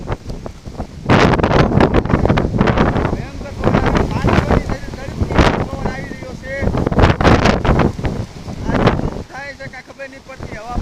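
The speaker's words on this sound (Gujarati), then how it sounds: "આમ જો આવે એ પવન" Strong gusts buffet the microphone during a wind and rain storm in Dhinkvali village, loud roaring surges rising and falling while someone talks over them.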